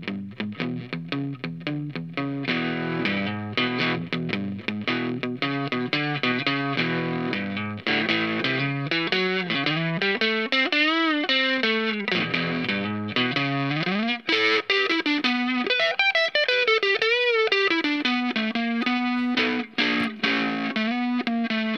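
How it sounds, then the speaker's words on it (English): Electric guitar played through a CAB Driver overdrive pedal, a distorted melodic line with sustained notes and bends, loud and continuous with no talk. "You can use the volume control on your guitar to adjust the amount of distortion if you prefer."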